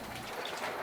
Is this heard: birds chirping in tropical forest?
no